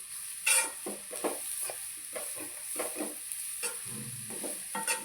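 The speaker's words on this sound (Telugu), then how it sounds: "సాల్ట్గా వేసేసుకుని కలిపేసుకుందాం ఫ్రెండ్స్" Salted carrot fry is stirred in a hot pan, with a spatula scraping in a steady rhythm of repeated strokes over a light sizzle, close and moderately loud with no talking.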